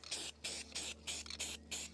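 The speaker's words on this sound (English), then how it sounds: "I'm actually going to use it to hold this so I can get a better spray paint on it" Spray paint hissing from an aerosol can onto an old jewelry piece held in a holder, six short bursts in an even rhythm with brief pauses between, close and fairly quiet.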